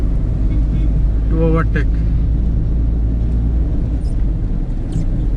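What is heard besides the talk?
2020 Tata Tiago car accelerating in fourth gear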